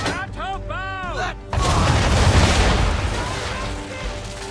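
Ship cannons in Assassin's Creed III fire a loud booming volley that swells into a long rumbling roar, following a few seconds of voices and music.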